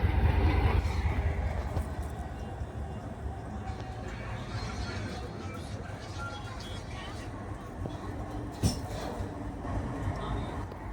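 The Nagercoil–New Jalpaiguri Amrit Bharat Superfast Express rumbles along steadily with a low, continuous roar and clatter, a brief metallic clank partway through.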